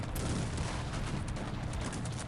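Cannons fire in the Cossacks 3 strategy game during a battle against Turkish forces, a dense, continuous roar of overlapping booms and crackling shots with a sharper blast near the start.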